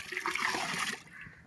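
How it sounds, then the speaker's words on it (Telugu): Water pours from a can into lentils in a cooking pot, a steady close splashing gush for about a second that then eases to a faint trickle. "ఇప్పుడు పప్పులో నీళ్లు పోస్తున్నా"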